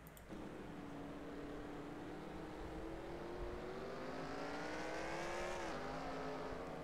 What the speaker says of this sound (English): We'll ride on board with him, and we'll listen to the engine and see if he possibly maybe misses a shift